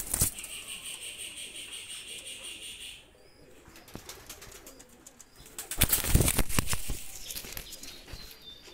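A Jaldar Salara Teddy pigeon with an Alif-type beak, released from the hand, beats its wings in bursts of flapping, loudest near the end, over a steady high insect-like drone and background noise.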